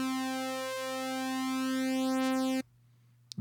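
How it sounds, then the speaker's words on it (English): Init patch on an Access Virus TI synthesizer with two detuned oscillators, a steady sustained tone with slow beating movement that holds for about two and a half seconds before cutting off to near silence. "What you can hear is that there's actually two oscillators going, one that's kind of beating against the other one, creating that sort of movement."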